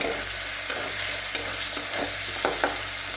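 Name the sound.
whole garlic cloves frying and being stirred in oil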